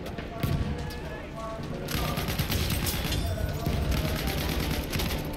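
Bursts of rapid video game gunfire, fairly faint, crackling in repeated volleys through an ABRA A5 V9.3 gaming laptop.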